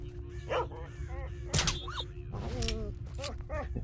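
Dogs in the S.T.A.L.K.E.R. Shadow of Chernobyl video game let out short barks and yelps over game ambience, while someone talks.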